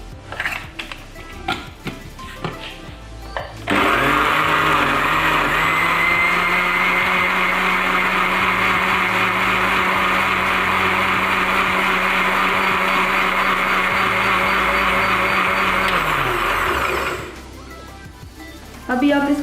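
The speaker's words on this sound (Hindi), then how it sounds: "वाटरमेलन डालने के बाद हम इसमें बाकी चीज़ें मिलाएंगे और सबको ग्राइंड करेंगे।" A kitchen blender grinds watermelon with other juice ingredients, a loud steady whir running for about thirteen seconds before winding down, with clattering and handling noises just before it starts and after it stops.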